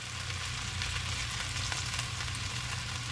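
Chicken pieces for bourbon chicken sizzle and fry steadily in a hot pan, giving a dense, continuous crackle with no pauses.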